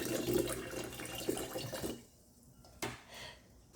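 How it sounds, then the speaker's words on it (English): Liquid poured from a bottle into a glass jar of vinegar for a rubber egg experiment, a steady close splashing stream that stops abruptly, followed by a brief clink and a few faint drips. "we're going to fill a jar with vinegar"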